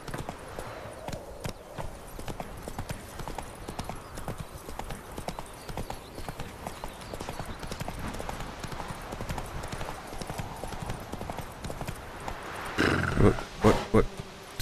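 Horse hooves in The Witcher 3: Wild Hunt clip-clop in a steady galloping rhythm, close and continuous, with a player talking over it and a louder burst of game sound near the end.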